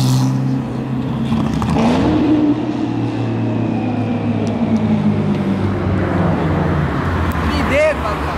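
Maserati sports car accelerating along Avenida Europa, an engine drone that rises and revs, with other traffic passing and people talking over it.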